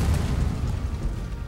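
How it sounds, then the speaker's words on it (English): Armstrong gun cannon firing in the Total War: Shogun 2 – Fall of the Samurai video game, a loud, deep boom with a rumbling tail that fills the whole short moment. "one cannon's getting ready to fire"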